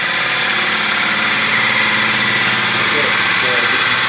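A hole saw grinds steadily through a laminated countertop, a dense, continuous whirring drone that holds level throughout, with no pauses and no voices over it.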